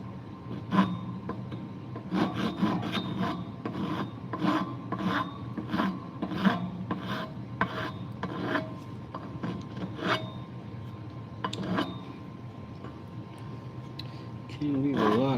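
Rasping and filing on an oak handle being hand-shaped for a flush cut saw, with repeated rough strokes close and fairly loud throughout and brief talk.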